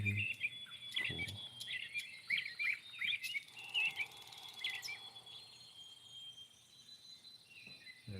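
Night-time outdoor chorus of chirping calls, with birds and insects such as crickets trilling continuously at a moderate distance, short repeated tweets over a steady high hum.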